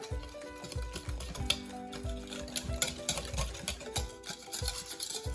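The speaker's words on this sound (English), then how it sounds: "Got my whisk here. We're going to mix her up." A whisk beating instant vanilla and chocolate pudding mix for a possum pie, a fast, rhythmic clatter of quick strokes against the bowl that repeats steadily and close by, with no talking.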